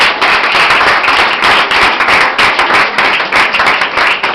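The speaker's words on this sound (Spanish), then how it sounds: "¿Cuánto le digan otro fuerte aplauso al Señor?" A church congregation bursts into loud, dense applause at a Spanish-language evangelical service. Many hands clap fast with crisp, uneven bursts throughout, and no voices are heard.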